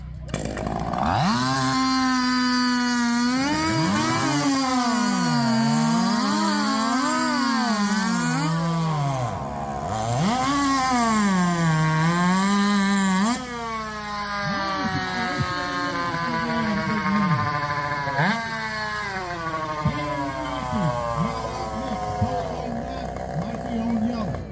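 Several chainsaws roar together at a timed chainsaw race in Jackson, Alabama, engines screaming steadily at high revs and wavering as bars bite through timber, loud and continuous for the whole stretch.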